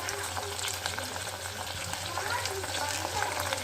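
Brinjal and green chillies frying in a pan for chutney are stirred, giving a steady close sizzle with soft scraping that runs the whole time, and no one speaks.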